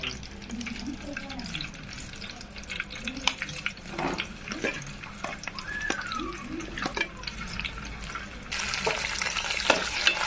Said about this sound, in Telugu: టమాటీస్ కూడా ఆయిల్లో వేసుకున్నాం